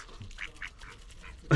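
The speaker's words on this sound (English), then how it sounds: "Greedy ducks." Several short nasal quacks from ducks close by, scattered over a second and a half, ending in a sudden loud bump.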